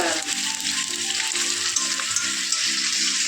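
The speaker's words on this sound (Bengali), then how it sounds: "চিংড়ি মাছ ভাজা বসিয়েও দিয়েছে" Prawns fry in hot oil with a constant loud, close sizzle that carries on without pause and without voices.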